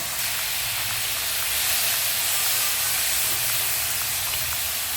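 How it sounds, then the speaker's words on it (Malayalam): Small onions sauté with turmeric in a hot pan for beef perattu, making an even, steamy hiss that holds steady and close, with no talking. "ഇതിൻ്റെ ഈ കാൽ സ്പൂൺ മഞ്ഞൾപ്പൊടി കൂടി ചേർത്ത് കൊടുത്ത് വഴറ്റാം"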